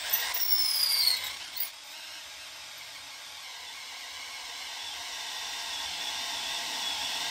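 A 5/8-inch reamer cuts metal with oil, starting with a sharp, loud metallic whir before settling into a steady, even hiss of cutting and machine noise.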